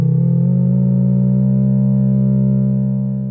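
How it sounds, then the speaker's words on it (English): A synthesizer's modulation oscillator in an FM patch, a loud steady low sustained tone with stacked harmonics, holding for about three seconds and fading slightly at the end. "listen to my modulation oscillator for reference"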